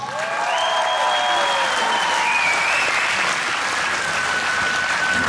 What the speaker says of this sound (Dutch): Mag ik ook dezelfde applaus voor deze twee jongens?